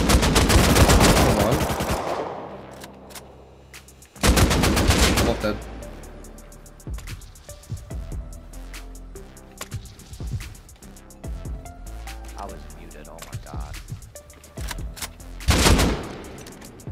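AK assault rifle fire in the console version of the survival game Rust, loud rapid automatic bursts and single shots echoing in a dense stretch, then scattered distant shots, with voices talking over parts of it.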